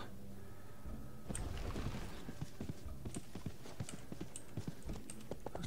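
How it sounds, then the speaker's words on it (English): Hooves clip-clop in a steady, quick rhythm as a horse is ridden in the fantasy video game RIFT, with crisp repeated hoofbeats and a faint game ambience underneath throughout. "Get on the horse."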